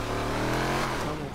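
A car engine revs in the game FiveM with a steady, loud, continuous drone whose pitch rises and falls slightly, heard alone throughout.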